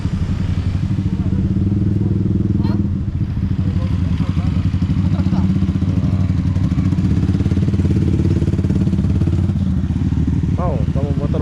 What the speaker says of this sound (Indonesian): Mau kamu motor besar macam itu, Di?